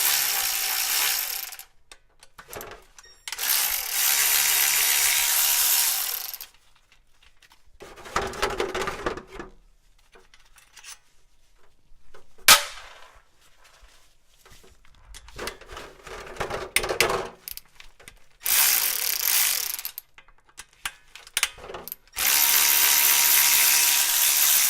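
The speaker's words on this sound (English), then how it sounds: "So I'm just going to continue going around, removing these bolts." Ratchet wrench cranking out transmission pan bolts on a GM 4L80E automatic transmission in a truck or van, in several loud bursts of rapid clicking separated by quieter pauses, with no talk.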